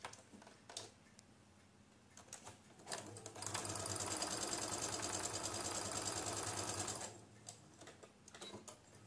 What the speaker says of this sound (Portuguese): Deixa eu passar novamente aqui a costura.